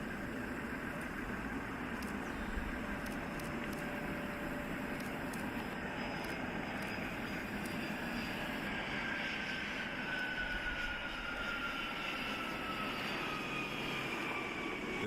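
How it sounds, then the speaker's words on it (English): A Boeing 767 jet climbs away during a near tail-strike takeoff, its engines a steady, distant roar and whine holding for the whole stretch with no pauses. "This Boeing 767 almost had a tail strike."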